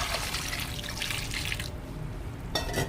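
Water runs from a tap into a cooking pot holding corn for a seafood boil, a steady rushing splash that stops partway through and then starts again.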